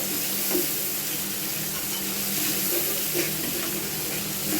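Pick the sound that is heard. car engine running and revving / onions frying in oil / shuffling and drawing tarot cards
onions frying in oil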